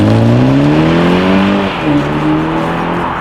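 A 2019 BMW 330i xDrive sedan in sport mode accelerates hard with a loud, rising engine note that shifts through a gear change, heard from inside and continuing steadily to the end.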